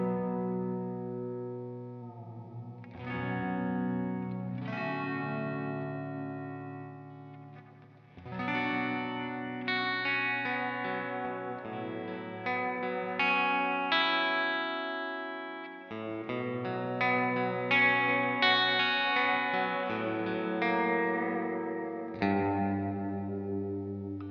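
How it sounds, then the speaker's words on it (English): Electric guitar chords and notes ring out drenched in pedal delay and reverb, echoes trailing and blending into a lush wash, with no talking. "it's a delay reverb-esque sound mixture there."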